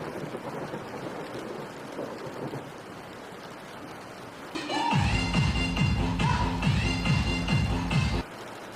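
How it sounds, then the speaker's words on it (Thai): Melon Playground video game storm: a steady hiss of rain runs throughout, then around the midpoint loud rolling thunder crashes in, rumbling repeatedly for several seconds before cutting off, with no talk over it. "ฝนยังไม่หยุดตกอีกแล้วเนี่ย"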